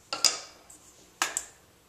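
A spoon stirring lucuma powder into warm coconut oil, a few sharp metallic clinks and taps against the bowl in two quick pairs, close and fairly quiet with nothing else heard.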